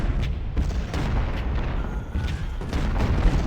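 Cannon artillery fire in Ultimate General: Civil War at the Stones River battle, day two. Repeated dull booms and bursts sound across a steady din of battle, mid-distance and fairly loud, with no talk.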